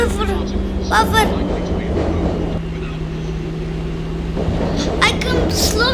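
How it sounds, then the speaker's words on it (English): Train in a simulator video game running steadily with a continuous low rumble and rail clatter, a steady hum throughout, with a person talking over it at moments. "The train is still going."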